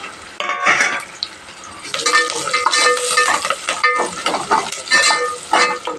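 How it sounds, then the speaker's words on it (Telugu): Curry leaves hitting hot oil with urad dal and peanuts for wheat rava upma, erupting into a loud, crackling sizzle that stays intense and close, with spatula stirring and scraping against the pan. "కరివేపాకు వేసుకుందాం."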